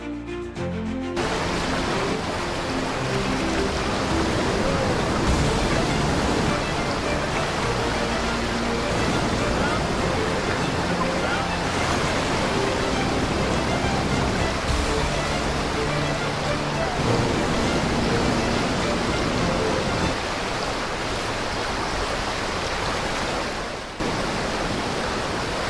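Ocean waves break on a Spanish beach, a loud, dense, continuous roar of surf and churning water that holds steady throughout with only slight surges.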